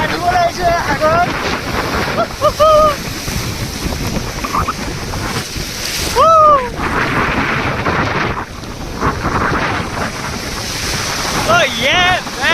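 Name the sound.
sea waves at Dhanushkodi beach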